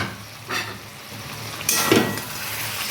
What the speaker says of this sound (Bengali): আলু আর বাঁধাকপিটা এইভাবে জাস্ট একটু কষিয়ে নেবেন